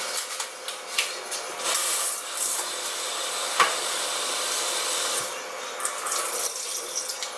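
Kitchen tap running while mushrooms are rinsed: a steady hiss of flowing water splashing into a sink, with small knocks and rubbing of handled produce mixed in, close and moderately loud.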